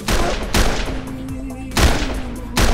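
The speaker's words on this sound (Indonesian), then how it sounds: "Mendengar suara tembakan tersebut, Rana, Mr. Khan dan tugas yang lain pun sege" Heavy gunshots ring out in an Indian thriller film, four loud blasts spaced under a second apart, each followed by a ringing tail.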